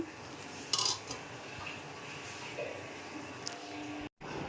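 Metal utensils clink and scrape against a plate while white rice is served at home, a few light knocks and scrapes standing out over quiet room noise.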